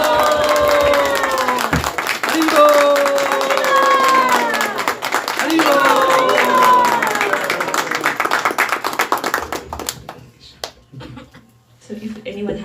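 An audience at a live podcast with HG Chaitanya Charan Prabhuji bursts into applause amid cheering voices and a chanted response. The clapping is dense, then thins into scattered claps and trails off into near quiet.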